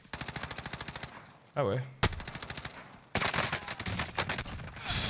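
Rapid bursts of automatic gunfire from the Striker weapon in the shooter game Call of Duty: Warzone, loud and close, firing in repeated volleys with short pauses while a player speaks briefly.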